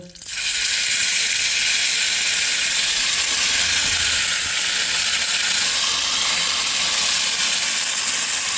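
Saag greens tossed onto lightly browned garlic in hot oil set off a sudden loud sizzle that starts with a brief clatter and holds as a steady, close hiss.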